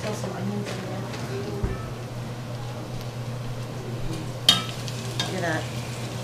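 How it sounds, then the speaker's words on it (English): Filipino home cooking with garlic and pepper sautéing in a pan, a steady sizzle running throughout with a few stirring clatters and one sharp utensil knock near the end, while people talk nearby. "Gently saute, Ron."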